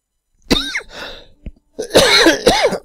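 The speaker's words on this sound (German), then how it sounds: "Ganz plötzlich musste ich husten" A man coughing in sharp, close bursts, a couple of rough coughs with some throat clearing between them, loud and heard alone.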